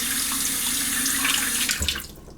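Water runs steadily from a faucet into a bathroom sink fitted with a universal stopper, a loud continuous splashing rush that cuts off near the end, with no talking.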